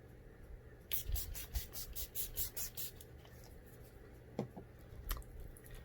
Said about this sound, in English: I'm just using the Nyx Matte Finish spray